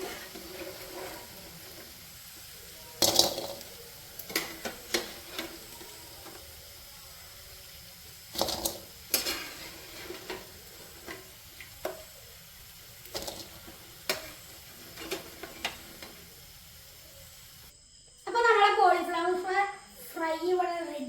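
Cauliflower pieces fry in hot oil for chilli gobi, with a low sizzle under repeated sharp clatters of a scoop against the pan. A voice speaks near the end.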